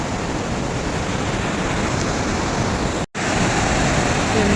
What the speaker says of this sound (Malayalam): വെള്ളത്തിൻ്റെ ശബ്ദം കൊണ്ടൊന്നും കേൾക്കാൻ മേലായിരിക്കും